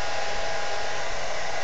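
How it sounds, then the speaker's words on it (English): Hair dryer blowing steadily at close range, a continuous loud airy roar with a hum and no pauses. "Take my hair dryer. This time I'm gonna put it on."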